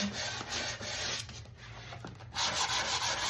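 220-grit sandpaper, well worn, rubbing on an old wooden sewing table drawer in repeated back-and-forth strokes, a coarse scratchy rasp that pauses briefly midway before resuming louder.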